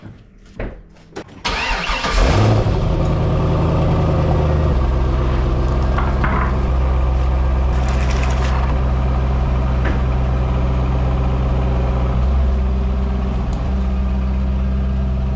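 A Corvette C5 Z06 engine cranks and fires after a few faint knocks, then settles into a loud, close, steady idle with small revs as the car pulls out for the season.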